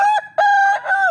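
A farm rooster, one of a pair of young cocks, gives a single loud, close crow, its strained, wavering call breaking into three connected segments with no talking.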